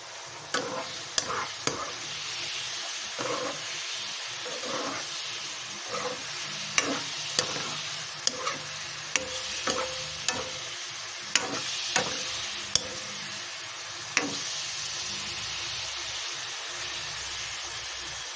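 Lucban longganisa sausages fry in a little oil with a constant hiss, while utensils tap and scrape the pan in scattered sharp clicks, close up and moderately loud.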